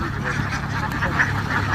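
Native ducks on a duck farm, a mixed flock of males and females around water, quacking in a steady overlapping chorus, fairly close and continuous.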